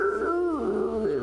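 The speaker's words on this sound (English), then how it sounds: "A dog barks elsewhere." A single dog in a Call of Cthulhu tabletop game lets out a drawn, wavering howl-like bark with a whimpering pitch bend, close and clear over faint room tone.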